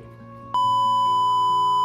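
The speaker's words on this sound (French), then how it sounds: "les petits bips te permettront de comprendre ces mots-là" A steady electronic censor beep cuts in abruptly and holds a single pure tone for over a second, loud, then stops.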